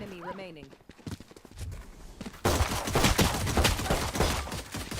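Burst of gunfire in the Valorant video game, dense cracking shots erupting halfway through and continuing loudly to the end, preceded by quieter game sounds and a brief electronic chirp.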